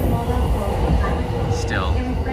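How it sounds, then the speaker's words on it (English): A Chuo Line train passes nearby in Tokyo, a loud continuous rumbling roar with a faint rising whine, heard under a man's speech. "there goes a train buzzing"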